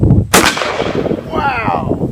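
A 12 gauge shotgun fires a single custom .50 caliber hollow point slug outdoors: one loud, close blast with a rolling echo that fades over the next two seconds.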